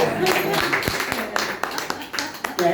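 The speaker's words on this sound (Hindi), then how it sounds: "इस बात पर ताली बजाते हैं।" An audience at a poetry meet claps in scattered, uneven bursts, with sharp individual claps and voices mixed in under the applause.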